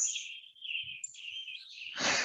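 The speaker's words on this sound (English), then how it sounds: "The birds sound so good." Birds singing in a woodland park, a clear run of high chirps and whistled song phrases near the listener, closing with a brief rustle or rush of noise.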